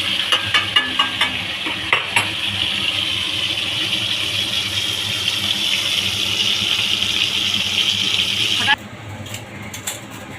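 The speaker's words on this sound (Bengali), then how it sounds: "মাছ ফ্রাই হয়ে গেছে" Pangas fish frying in a pan, a steady bright sizzle with intermittent pops and spatters, close and fairly loud, ending abruptly near the end, while a person talks over it.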